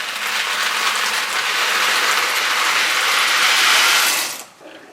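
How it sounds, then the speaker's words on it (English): Dry macaroni pasta pours into a pot of boiling water with a loud, dense rattling hiss for about four seconds, then cuts off abruptly to a quiet simmer. "now that our water has come to a boil, we're going to add our macaroni pasta"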